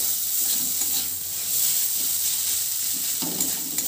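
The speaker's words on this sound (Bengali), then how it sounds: "আমি এবার আলু দিয়ে দিচ্ছি এর মধ্যে। আলু দিয়েও গ্যাসের ফ্লেমটা আমি একদম কিন্তু লোতে রেখেছি, এখন ভালোভাবে মিশিয়ে নেব।" Potatoes being stirred and fried in a pan over a low gas flame, a constant loud sizzle with periodic scraping and clattering from stirring, close up and without speech.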